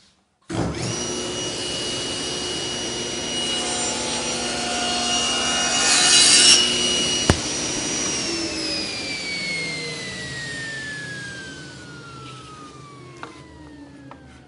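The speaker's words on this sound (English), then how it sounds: "Now we can go ahead and make our first cut here." A table saw rips through wood for a picture frame, the blade whining steadily with a cutting roar that peaks mid-cut before spinning down in a long descending whine, loud and close with no talking.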